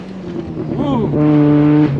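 A rotary-engined car sets off on its first lap in a racing video game, giving a high buzzing engine note that rises and then holds steady, while a voice talks over it.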